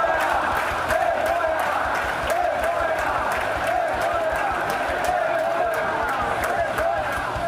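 Stadium crowd roaring and shouting at the final whistle of a Santos Série B match, a dense, loud, continuous wall of voices with a recurring whistle-like tone above it.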